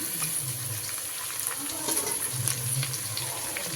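Tap water runs and gushes into a bowl in a kitchen while cooking mutton varuval, a steady close splashing flow with a low gurgling fill note.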